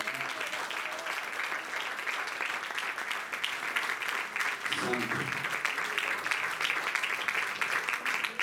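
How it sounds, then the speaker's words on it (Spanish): A church congregation in Mexicali, Mexico, applauds, with steady dense clapping filling the room for several seconds and voices faintly mixed beneath it. "Démosle un aplauso a Dios esta tarde."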